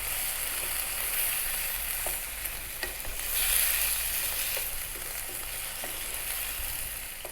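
Beef and broccoli stir-frying on high heat, a steady loud sizzle with occasional scraping stir strokes, continuous and close with no talking.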